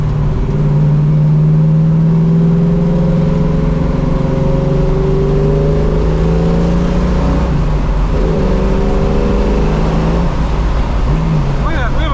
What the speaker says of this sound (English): Engine has plenty of power.